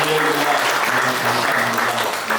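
A church congregation at a Korean Sunday service on Parents' Day claps steadily, a full, even burst of applause filling the room with faint voices murmuring underneath.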